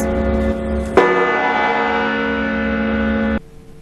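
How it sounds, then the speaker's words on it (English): Church-style bell on the customs house clock tower strikes once, loud and close, a sustained harmonic ring that hangs steadily for over two seconds before cutting off, with no voices. "The 58-year-old is the fourth guardian to maintain the clock on top of the customs house to ensure it chimes accurately every 15 minutes."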